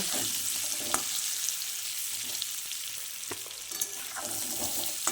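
New winter potatoes fry in hot oil with a quiet, steady sizzling hiss, punctuated by occasional faint clicks of a utensil in the pan.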